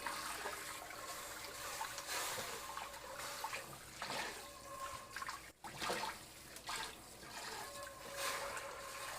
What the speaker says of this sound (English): We also just give it a quick rinse out.